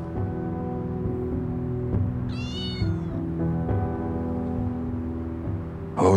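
A cat meows once in a short, high, wavering call over a steady hum of background sound, with a brief louder noise at the end.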